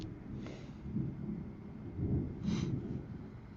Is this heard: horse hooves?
no